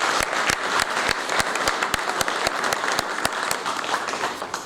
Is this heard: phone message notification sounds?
no